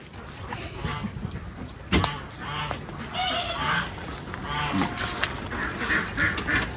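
Call ducks in a barnyard pen after a hurricane, several loud quacks and honking calls repeating close by over a breezy outdoor background.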